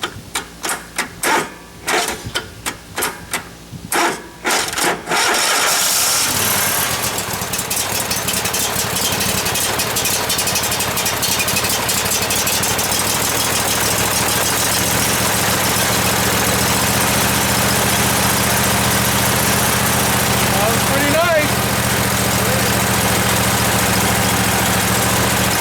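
A Cub Cadet barn-find tractor cranks with a run of choppy starter bursts, catches after about five seconds, then settles into a steady, close, droning idle that runs on alone.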